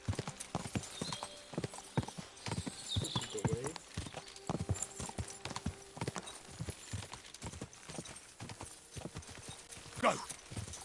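Rapid hoof clip-clops of a galloping horse, steady and close, with shouted voices and a brief whinny-like cry near the end.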